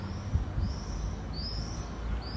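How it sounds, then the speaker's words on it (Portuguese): A small bird calls with four thin, high whistled notes spaced apart, heard over a low background rumble outdoors. "Ó, tem um passarinho gritando"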